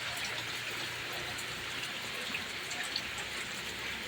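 Heavy rain from an approaching cyclone pours down steadily in a dense, even roar of drops hitting surfaces, continuous and loud throughout with no voices.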